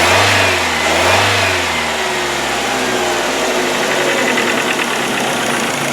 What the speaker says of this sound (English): I'll try to rev it up here